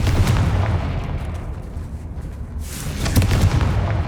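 Booming Confringo fire spell explosions from Hogwarts Legacy, a loud sustained rumbling blast at the start that fades mid-clip, then a second heavy burst of explosive impacts near the end, with no talking.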